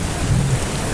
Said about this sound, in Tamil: எவ்வளோ மழையை பாருங்கள்